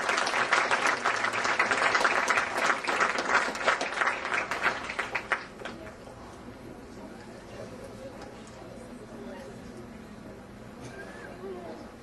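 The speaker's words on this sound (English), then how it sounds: "please give them a warm applause and welcome to those who are participating tonight in the Lyrical Lounge" Warm applause from a lounge event audience, a dense burst of clapping lasting about five seconds and then fading into quiet room murmur and chatter.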